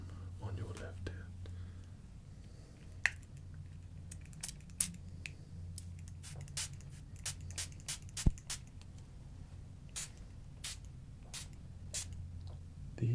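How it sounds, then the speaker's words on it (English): Quick, sharp spray-bottle bursts hiss one after another at irregular intervals over a quiet background, close and crisp. "These are short bursts, so if you like the sort of quick sound of that"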